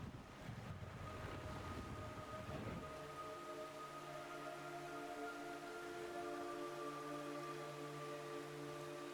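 Rain from the video game Metal Gear Solid 3 Snake Eater, a steady wash of falling rain with wind-like noise under sustained low musical tones.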